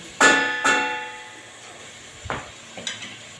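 Chicken liver and gizzard being stirred in a frying pan, with two sharp utensil scrapes against the pan followed by softer clinks over a faint sizzle.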